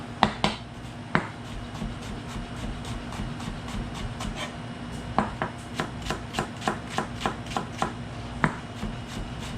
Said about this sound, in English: we're just going to proceed to start chopping this up